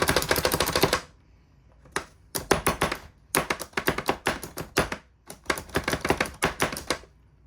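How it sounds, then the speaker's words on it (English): Onions are chopped in a manual vegetable chopper: close, sharp rapid clacking in quick bursts, with a short pause after the first burst and steady repeated chopping after it. "you want to just like chop some onions or veggies really quick, they're pretty neat"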